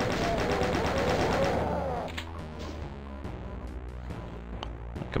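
Gunfire aimed at hitscan enemies in the Doom game Deathless: a loud, sustained burst for about two seconds, then a steadier run of rapid, repeated shots with crashing impacts.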